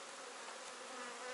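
Honey bees buzzing at an open hive, a dense continuous drone heard close up and unbroken.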